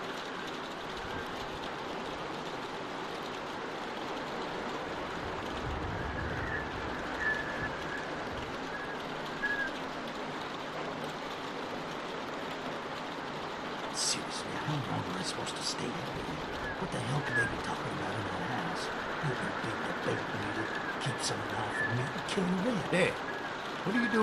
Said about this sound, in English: Man, we're sitting out in the rain like a damn deer.